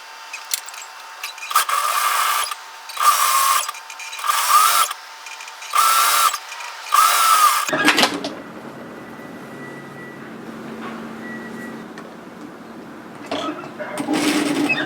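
A sewing machine stitching a scoop-neck bodysuit runs in five or six short, steady whirring bursts with brief pauses, then stops as quieter room sound and faint talk follow.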